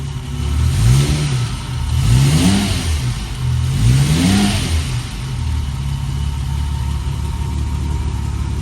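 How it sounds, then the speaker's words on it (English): A motorcycle engine on a dyno revs loudly in three quick blips, each rising and falling, then settles into a steady rumbling idle. "Give it a blip, Bob."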